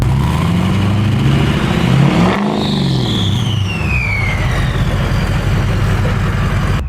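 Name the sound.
car engine revving in park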